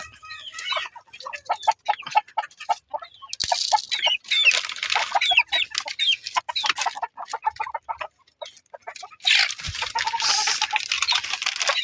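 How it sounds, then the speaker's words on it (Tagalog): Chickens cluck and chatter up close in a busy flock, calls overlapping irregularly, with bursts of scratching and rustling in between. "Yan marami dito manok"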